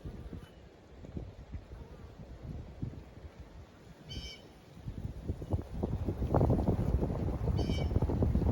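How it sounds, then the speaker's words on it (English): Gusty wind blows outdoors around beehives on a March day, a steady low rumble that swells louder in the second half. "There's that wind."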